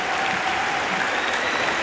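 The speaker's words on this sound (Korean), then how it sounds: "박수가 절로 나오는데요" Spectators at a rhythmic gymnastics World Cup in Lisbon applaud, a dense, continuous wash of arena clapping heard from a distance, steady and unbroken throughout.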